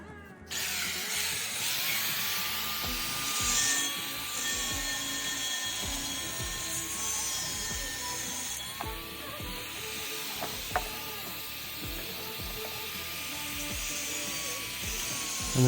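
An electric grinder works over a cast bronze bell to clean its surface, a continuous high whine with rasping grit that wavers slightly as the tool bears down and eases off. It is steady and close throughout.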